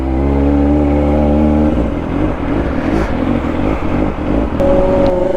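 Kawasaki ZX25R motorcycle engine idling then throttle blipped and revved repeatedly, a loud, close, high-pitched four-cylinder whine rising and falling with a steady rumbling idle between bursts.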